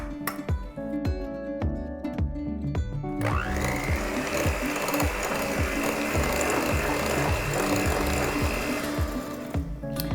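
An electric hand mixer beats two eggs into cream for brookies, switching on about three seconds in, then whirring steadily and loudly, with a rhythmic rattle against the bowl throughout.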